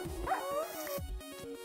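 Video game dog yipping and whimpering close by, several short high-pitched yelps and whines in quick succession, fairly quiet, with no talk.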